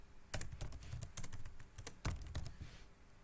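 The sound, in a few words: typing a name on a computer keyboard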